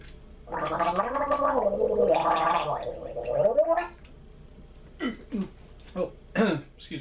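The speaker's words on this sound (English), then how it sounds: "Was not intending to burp on camera." A long, gurgling burp from a person indoors, rising and falling over about three seconds, close and loud, followed by a few short throaty sounds.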